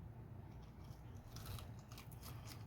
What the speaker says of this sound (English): I'm gonna take a bite of this without anything on it first to see.